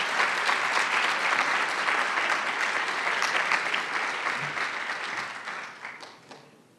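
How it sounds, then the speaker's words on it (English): Warm round of applause from a community rally audience for United Way staff, dense clapping that runs strong and then tapers off toward the end. "I would just appreciate it if you would give the staff of the United Way a big round of applause"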